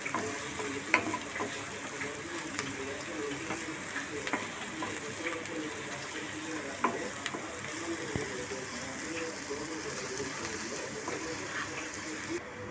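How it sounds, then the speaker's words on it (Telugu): Thinly sliced green chillies sizzle in hot oil for a raw banana podi curry, a continuous crackling fry with small pops and occasional stirring scrapes throughout. "సన్నగా కట్ చేసుకున్న పచ్చిమిర్చి కూడా వేసి వేయించుకుందాము."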